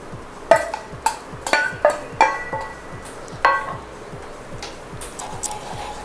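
Fried eggs are stirred into rice in a wok for egg fried rice, giving repeated sharp metallic clanks and scrapes of a utensil against the pan in an irregular rhythm, close and fairly loud, with no talk.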